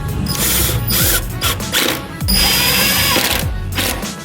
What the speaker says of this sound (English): Now we need to remove this 10mm bolt to get it out of the little bracket.